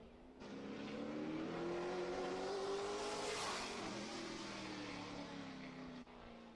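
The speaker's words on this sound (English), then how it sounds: "looks like it's going to be the 77 of Rick Thompson out of Fresno, California. Jumping the gun" A race car, the number 77, passes on track during qualifying at the Harvest Classic, its engine note rising as it approaches and roars past, then fading away, heard from a distance with a continuous tone.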